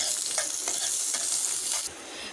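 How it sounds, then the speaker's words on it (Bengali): Onions and dried chilies fry in a little oil in a pan, a loud, close hiss with rhythmic stirring strokes, easing slightly in the final half second. "পেঁয়াজ আর মরিচটা ভাজা হয়ে গেছে"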